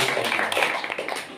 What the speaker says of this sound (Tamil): அவர்களும் கைத்தட்டி பாராட்டுகிற வாழ்த்துக்களை